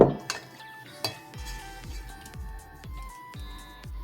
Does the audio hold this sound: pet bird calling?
no